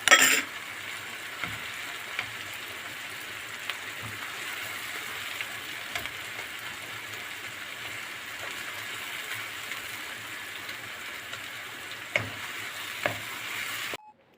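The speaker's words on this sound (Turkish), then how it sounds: "Evet arkadaşlar soğanımızı iyicene kavurmaya bıraktık" Onions sauté in a pan as tomato paste goes in, a steady soft sizzle throughout, broken by occasional clinks and scrapes of a spoon stirring against the pan.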